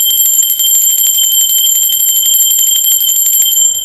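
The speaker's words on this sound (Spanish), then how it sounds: "Va campana." A bright, steady ringing bell with sustained high metallic tones, loud and continuous throughout, with no voices.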